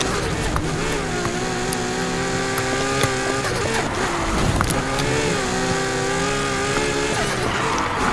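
An F1 McLaren racing car in the game NFS Heat holds a loud, continuous engine whine that rises and falls with gear changes. A faint voice sits under the engine at moments.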